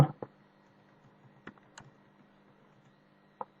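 Sparse keystrokes on a computer keyboard while entering values into a spreadsheet: a few separate clicks, one short cluster, then long quiet gaps and a final single tap, close and soft.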